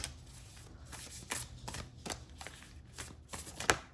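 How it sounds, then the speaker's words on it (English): Tarot cards riffle and slap together as a deck is shuffled by hand, a close, quiet series of papery bursts with short pauses between them and no talk. "let's get a card from this deck"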